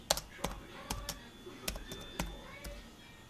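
Firm keys clack on an IBM compatible PC keyboard as someone types in Notepad, a quick irregular run of crisp, close taps over a faint room hum.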